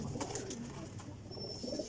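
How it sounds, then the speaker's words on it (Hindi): A golden pigeon coos softly and repeatedly over a faint, noisy background. "ए देखो जी गोल्डन कबूतर है"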